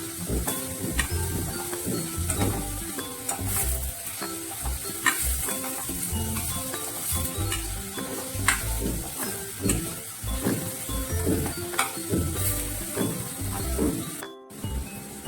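Onions stir-fry in oil for a green bean and potato bhaji. Dense, continuous sizzling runs throughout, with frequent spatula scrapes and clinks against the pan, close up and busy.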